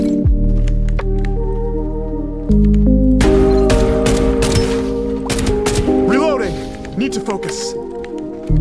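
Rapid gunfire and impacts in a squad-based shooter video game crackle in bursts over a steady droning game soundtrack, with players talking urgently throughout.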